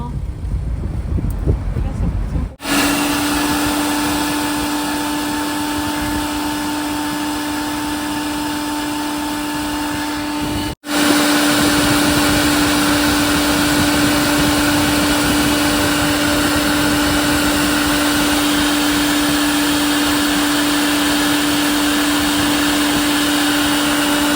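A pressure pump roars steadily and loudly as it flushes a clogged, dripping air conditioner drain pipe, a continuous motor drone that stops briefly and resumes, with people talking over it.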